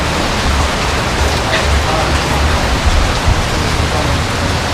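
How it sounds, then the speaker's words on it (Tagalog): Heavy rain pours during a nighttime storm with thunder and lightning, a dense, steady roar of rainfall with low rumbling underneath, loud and continuous throughout. "kung makikita nyo po ay sobrang lakas ng ulan at kumikidlat"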